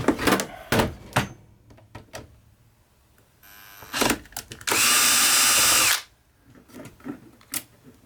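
A power screwdriver removes the black screws from a Roland Handsonic HDP-10 hand percussion pad, with one loud, close, steady whir lasting about a second amid handling clicks and taps.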